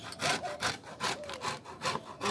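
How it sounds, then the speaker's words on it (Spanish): Orange peel being grated for an orange cake, a steady series of rasping scrapes, about eight strokes in even rhythm, soft and close. "Se está rayando la cáscara de la naranja"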